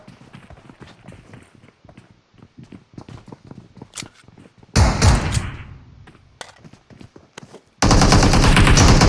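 PUBG Mobile gunfire: a quick series of light, distant shots patters throughout, then a loud close blast erupts midway and a dense, heavy burst fills the last second.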